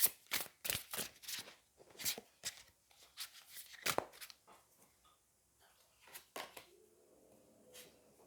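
Tarot cards are shuffled in quick bursts of crisp, riffling slaps and flicks, close and fairly loud, with short gaps between the cards, then quieter handling at the end.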